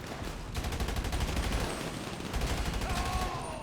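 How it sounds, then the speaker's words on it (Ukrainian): Rapid bursts of gunfire crackle almost nonstop in GTA 5 Online, dense automatic volleys with a few sharper shots, loud and close, with no voices. "Та мощно вони мене постріляли."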